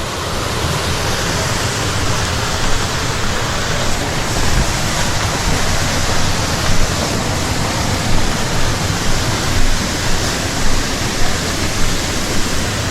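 Loud, steady rush of the nine-tiered Kao Chon waterfall in Suan Phueng, Ratchaburi, Thailand, with water pouring and splashing continuously at close range and no pauses.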